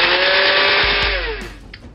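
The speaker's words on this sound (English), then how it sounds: "I'm going to push down the rev." Flywheels of a modified Nerf Rapidstrike blaster rev up in a steady loud whine that holds, then drops in pitch as they spin down near the end, with no talking.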